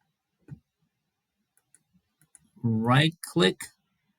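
A computer mouse clicks lightly a few times, one sharper click followed by several faint ticks, before a voice speaks briefly.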